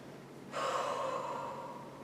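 A long, soft breath exhaled through the nose during a hip stretch for splits training, steady and close, slowly fading over a quiet background.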